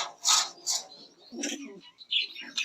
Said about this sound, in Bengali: আমরা এখানে আরেক জোড়া তুরি মাছ কবুতর দেখতে পাচ্ছি সাথে দুটি বেবি আছে